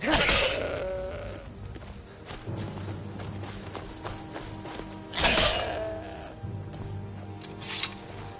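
Several loud, wavering goat bleats in Skyrim ring out in separate bursts, with a low rumble and scattered thuds running between them.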